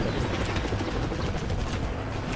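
Helicopter in the action video game Renegade Ops, a steady loud rotor drone mixed into dense game noise with bursts resembling gunfire and explosions throughout.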